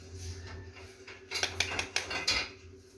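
A spoon clinks and scrapes against a container while slime is mixed in the colourful galaxy shades, a few sharp metallic taps and clatters over quiet low background hum, fairly faint and close.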